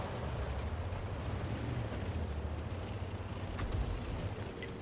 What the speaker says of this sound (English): right there, artillery starts falling around us